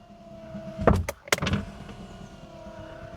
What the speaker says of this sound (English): Yeah, good electric windows.